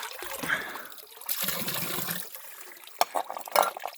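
Spring water trickling from a pipe on a Pennsylvania hillside, with a steady, close, splashy flow and a few sharper drips and clinks near the end. No one speaks.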